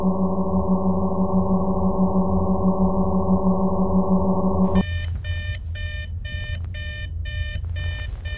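An alarm clock in a horror video game set in a bathroom rings as a loud steady electronic tone, then switches to rapid, evenly spaced beeping pulses.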